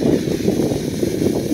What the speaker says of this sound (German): jetzt wird es ein bisschen windig